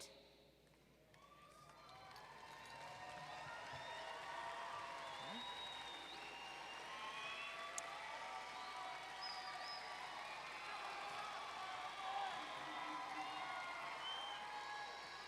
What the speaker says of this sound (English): That is very worthy applause.